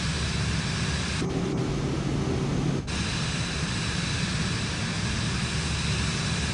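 Steady broadband airplane engine and wind roar from Microsoft Flight Simulator 2024 on PS5 during a landing approach, continuous and fairly loud, with a brief tonal change partway through.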